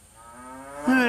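A single cow moos close by, starting low and swelling into a loud, drawn-out call at the end.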